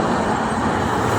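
Dense, loud traffic roar on the Jakarta–Cikampek toll road in the afternoon, buses and cars passing close in a continuous broadband wash with no gaps and no talking.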